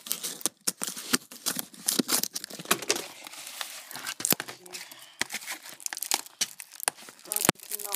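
Packaging for an Assassin's Creed Unity game is torn and crinkled open up close, with sharp ripping bursts and crackling plastic scattered across the stretch, while a person talks in between.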